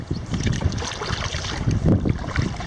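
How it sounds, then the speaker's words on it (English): Strong wind buffets the microphone on a Pensacola beach during a kayak camping trip, a steady loud gusting roar with low rumbling bursts throughout and no talking. "So you can probably hear the wind."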